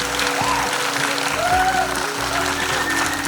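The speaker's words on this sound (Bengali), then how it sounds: "এইরূপ একটি টিমের জন্য একটা জোরে হাততালি" An audience gives a dance drama team a round of clapping at a staged performance of a reimagined Chitrangada production, a loud, dense applause that holds steady throughout.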